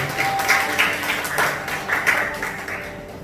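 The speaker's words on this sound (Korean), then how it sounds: "우리 박수로 찬양하겠습니다" A middle-school church congregation claps in praise during worship, with distinct rhythmic beats of group clapping, moderately loud and fading slightly toward the end, with a faint sustained tone underneath.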